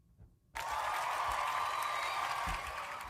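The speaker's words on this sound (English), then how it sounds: "I had to give a hand clap on that" After a brief moment of near silence, a crowd breaks into dense, steady hand clapping that keeps going without a pause.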